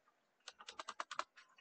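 Quick, light keystrokes clatter on a computer keyboard in a short burst of about a dozen clicks, close and clear against a quiet room.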